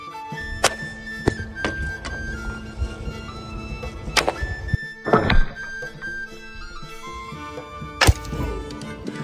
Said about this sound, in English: Okay, so the first shot actually bounced off. It hit a rivet right here.